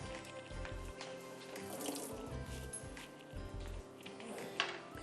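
Soaking water from apricots (khubani) is poured away at a kitchen sink, a steady running, splashing stream of water that continues throughout with small clinks, no talking.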